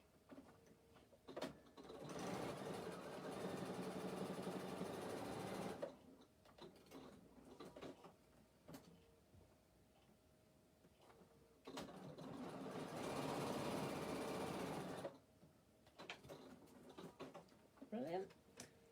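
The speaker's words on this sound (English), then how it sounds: "I'm just going to stitch down both sides to just make sure that they don't move." Sewing machine stitching down both sides of fabric pieces runs in two sustained bursts of close, steady whirring, with quiet handling noises and brief speech in the pauses.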